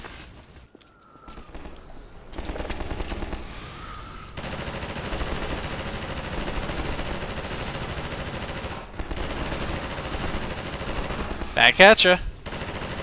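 Automatic gunfire from the Half-Life series, with sustained bursts rattling over ambient game noise for most of the span and a louder cluster of shots near the end, while someone talks briefly.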